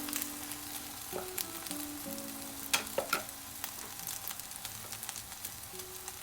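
A sweet rice red bean pancake fries in a pan with a steady, moderate sizzle and crackle, punctuated by a few sharper spatters and faint scraping sounds.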